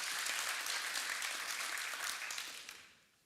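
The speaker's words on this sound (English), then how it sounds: "Please give them a round of applause." A conference audience at DevOpsDays Eindhoven 2023 gives a round of applause, a soft, distant but continuous patter of many hands that fades out after about three seconds.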